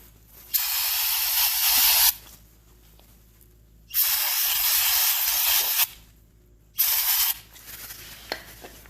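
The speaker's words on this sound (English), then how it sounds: "Take your brake clean and just spray it out until it's clean." Three long bursts of brake cleaner spray hiss loudly during a 6.0 Powerstroke fuel filter replacement, separated by short pauses, close by with no talking.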